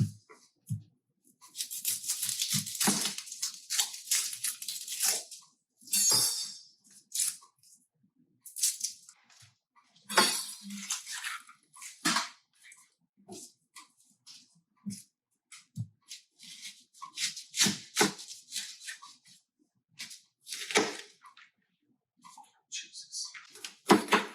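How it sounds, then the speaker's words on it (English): An onion being cut with a knife, irregular close crunchy chops and scrapes in scattered bursts separated by quiet gaps; no talking. "Please do not cut onions like I'm cutting onions right now."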